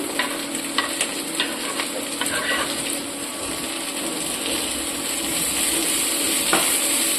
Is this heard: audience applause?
no